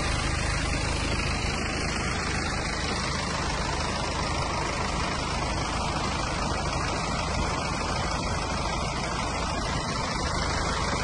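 A 2016 BMW F10 520 with its 2.0-litre diesel engine idles steadily, a dense, continuous rumble with broad noise, close by and unchanging throughout, with no one speaking.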